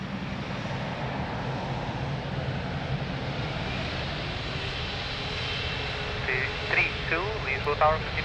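A jet taking off from runway 02 at Lisbon Airport, a steady, broad engine roar under continuous air traffic control radio chatter, with some louder bursts near the end.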